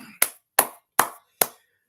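Four separate sharp hand claps, evenly spaced about three-quarters of a second apart, each ringing briefly in a quiet room with silence between them.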